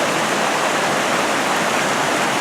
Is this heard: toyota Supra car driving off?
no